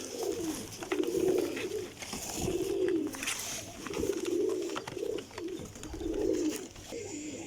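Golden pigeons at a loft in Jhelum coo in soft, low repeated bouts, about five rounded rolling calls spaced steadily one after another at close range, with no talk over them.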